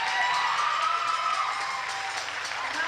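An audience at a 1994 folk group performance at Mohawk College claps and cheers for a new singer, a dense steady burst of applause with whoops and voices mixed in throughout.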